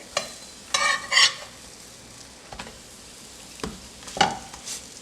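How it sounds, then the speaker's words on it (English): Fritters frying in a pan, a steady low sizzle broken by a few sharp bursts as pieces are flipped and stirred, close and without talk. "And I fry it all and be back. I'm flipping it."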